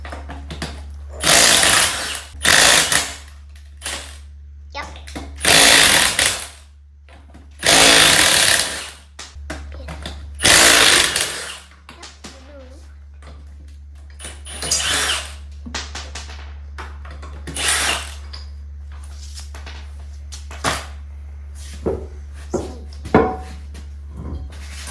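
Power tools zipping lug nuts off the wheels of a Chevrolet Suburban, loud bursts of an impact gun repeated in clusters, with quieter ratcheting and clanks between them over a steady low hum.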